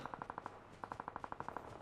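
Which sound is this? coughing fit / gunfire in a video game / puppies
gunfire in a video game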